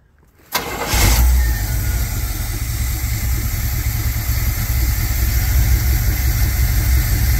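A Chevrolet squarebody truck's carbureted engine cranks and catches after sitting parked for 19 years, then keeps running at a steady, loud, rumbling idle.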